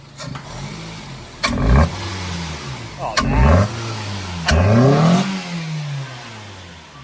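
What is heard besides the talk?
car engine intake revving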